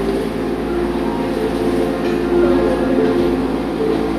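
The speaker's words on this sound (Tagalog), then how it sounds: "Isa-isa na umaalis ang mga tren." Trains pulling out of a crowded railway station, a loud steady rumble with humming mechanical tones and a faint rhythmic clatter, continuous for the whole stretch.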